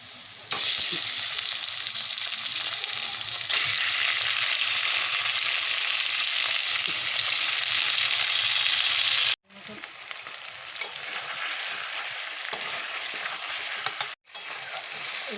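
Lemon-marinated chicken leg pieces frying in a pan in a little oil, a loud, continuous close sizzle with two brief breaks and no voices.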